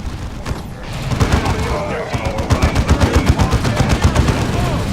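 Rapid gunfire in the strategy game Dawn of War 2 as jump-pack troops open fire, a dense rhythmic stream of loud shots building up and continuing steadily throughout, with battle noise behind.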